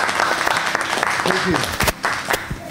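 Studio audience clapping on a Turkish television show, a brisk burst of applause with a voice speaking over it and a few sharp louder claps near the end.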